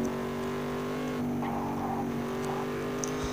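The Milagro, a beat-up car in the video game Gangstar Vegas, accelerates with a steady, droning engine tone that holds level throughout, with faint small clicks on top.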